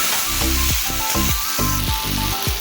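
Chopped tomatoes hit hot oil already holding fried onion, bay leaf and dried red chilli, giving a loud, steady sizzle up close, broken by rhythmic scraping stirs about every half second.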